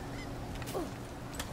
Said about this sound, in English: that was just a random bird